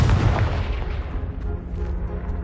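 A Confringo spell blasts a blocking pile in the video game Hogwarts Legacy, a loud booming explosion that rumbles heavily and then fades into scattered debris and crackle.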